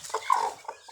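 A hen clucks close by in a quick run of short, throaty clucks and one drawn-out note, clear and fairly loud, with no talking.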